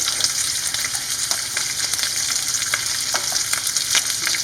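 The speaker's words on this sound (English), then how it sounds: "take the steaks, season them both sides, put one steak in" Steaks sear in hot oil and butter in a pan, giving a loud, dense, continuous sizzle with crackling pops scattered through it, close up and with no voices.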